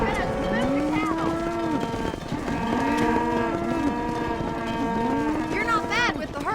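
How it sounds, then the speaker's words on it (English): Cattle herd mooing in the Western video game Red Dead Redemption, several long lowing calls overlapping one after another, steady and fairly loud over continuous ambient game sound. "You're gonna move the cattle."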